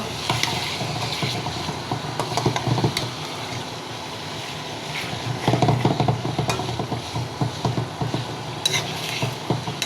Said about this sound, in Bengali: গরম তেলে মাংসগুলো ভেজে নিব।